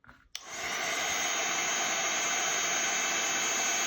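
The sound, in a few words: heat tool heating embossing powder on vellum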